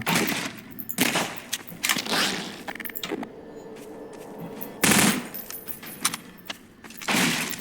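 Bursts of gunfire ring out from a hovercraft in the video game Half-Life 2, with sharp repeated cracks in several separate volleys, loud and near, while engine noise runs steadily underneath.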